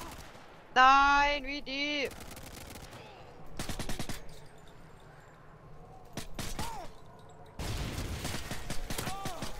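Gunfire in Call of Duty Modern Warfare 2 multiplayer: bursts of rapid automatic shots in several clusters, loud and close, with a brief voice spoken over the firing.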